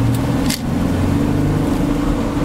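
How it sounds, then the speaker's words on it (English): A 1996 Ford Aerostar XLT 4x4 minivan hums along under very light throttle, its engine giving a low steady drone from inside the cabin, with a couple of faint brief ticks over the top. "That's barely putting the throttle down just in the least amount."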